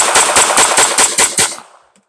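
Grand Power K22 MK12 .22LR pistol firing Federal Auto Match ammunition: seven sharp, evenly spaced shots in rapid succession, loud and close, then a short decay into quiet.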